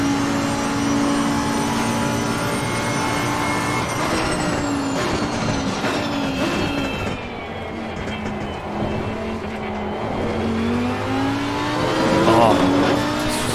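Race car engine in Assetto Corsa Competizione on a warm-up lap, a loud, continuous drone whose pitch rises and falls with shifts and throttle, with faint talk underneath.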